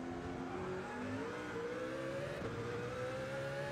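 A race car in a Le Mans racing game brakes into a left-hand corner, its engine note sliding steadily as it winds down, loud and continuous with no voices.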